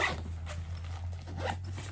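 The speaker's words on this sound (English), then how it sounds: "So zip it on up." A diaper bag packed full of baby supplies is zipped shut in one steady, continuous zipping run over a low constant hum, with no talk.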